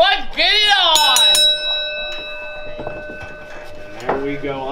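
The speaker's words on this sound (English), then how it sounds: "Ring the bell." Ring bell at a wrestling event opening the match, several quick metallic clangs with long ringing tones early on, loud and close, as a crowd voice and announcer talk around it.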